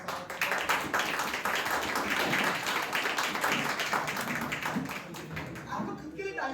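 A church congregation at a Hindi worship service claps for itself in a dense, steady burst of many hands, loud and continuous for about six seconds before thinning slightly at the end.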